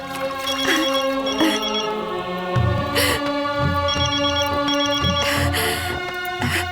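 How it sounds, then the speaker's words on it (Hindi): A phone ringtone plays a repeating electronic melody in short bursts, fairly close, with some thumping background noise between the rings. "लो, आ गया तुम्हारे देवरों का फोन।"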